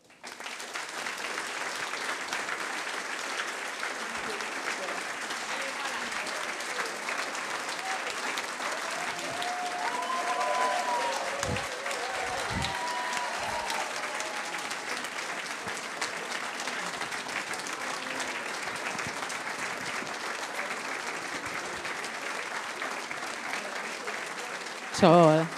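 A theatre audience at the DFF applauding the welcome of an actor, sustained dense clapping from a large crowd lasting over twenty seconds, with a brief voice at the very end.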